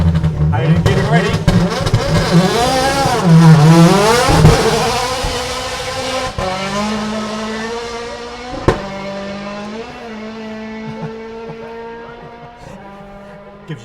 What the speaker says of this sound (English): Gives you goosebumps every time you hear it take off the line, that car.